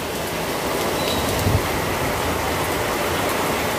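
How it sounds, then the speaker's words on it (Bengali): Heavy rain pouring down outside a home, a loud, steady broadband hiss of dense downpour with a brief low thud midway, continuous and close. "এত জোরে বৃষ্টি হচ্ছে"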